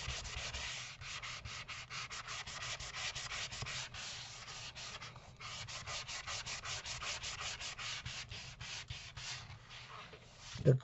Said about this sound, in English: I'm just using a fingernail file